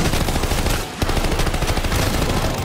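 Dense machine gun fire rattles in a Call of Duty Vanguard zombies match, loud and continuous apart from one short break, with no voices.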